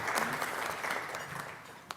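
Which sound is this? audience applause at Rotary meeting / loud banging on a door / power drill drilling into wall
audience applause at Rotary meeting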